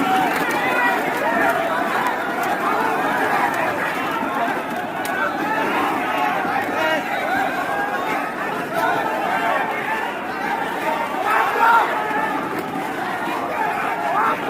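An angry crowd scuffling around Yogendra Yadav, a steady, dense babble of many shouting voices with shuffling movement, close and continuous throughout, with no single voice standing out.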